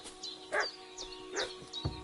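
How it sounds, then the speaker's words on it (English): Dog barking in the video game Kingdom Come Deliverance II, a run of four or five short, fairly close barks and yips with small gaps between them over a low background hum. "What's that dog making such a fuss about?"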